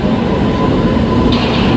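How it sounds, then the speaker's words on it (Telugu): A train rolls into a station with a loud, steady low rumble and rail noise that fills the whole stretch, and a faint higher hiss enters near the end. "సో ఇప్పుడే ట్రైన్ కూడా వస్తుంది."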